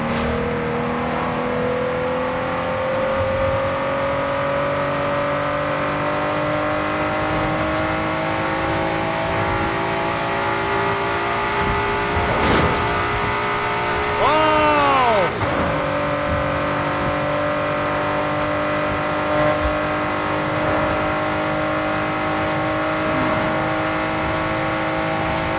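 A car engine revs and drones steadily in Forza Horizon 5, holding a sustained tone with pitch shifts and a quick rev-up and drop partway through, running loud and continuous.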